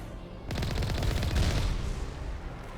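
Rapid gunfire bursts in the Mass Effect video game, a dense, rattling volley starting abruptly and continuing for a couple of seconds, fairly close and punchy.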